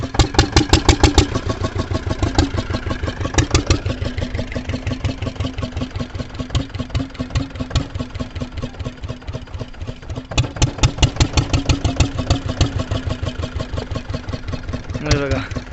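A fishing boat's engine idles as the boat docks at a harbour on Bankot creek, a steady mid-pitched chugging with regular thumping pulses, close and prominent throughout, briefly revving near the start and again past the middle.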